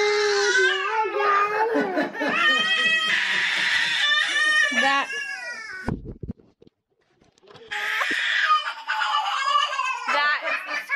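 A baby screams and cries loudly and up close in long, shrill wails, breaks off for about two seconds of near silence, then starts wailing again.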